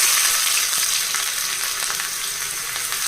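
Thinly sliced onion frying in hot oil for a tempering, giving a steady, loud, close bubbling sizzle that continues unbroken throughout with no talking.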